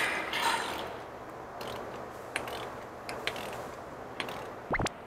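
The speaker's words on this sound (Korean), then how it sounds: "고무 실링 빼가지고 여기서 크랑크 돌려봐" A ratchet turns the engine crank by hand on a broken-down BMW 7 Series, giving faint, quick clicking pawl sounds at close range, with a few louder mechanical knocks near the end and no talking.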